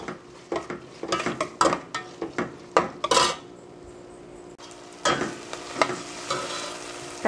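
Tomato and onions sauté in a pan, with a steady sizzle under repeated close spatula scrapes and clinks against the metal, in uneven bursts; a quieter stretch of frying sits between the stirring strokes.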